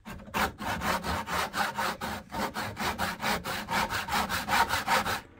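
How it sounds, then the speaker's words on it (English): A fine-toothed dovetail back saw cuts through wood in steady, evenly spaced strokes, a rhythmic rasping that repeats about three times a second, close and clear with no talking. "So here I'm just using my dovetail saw to cut this."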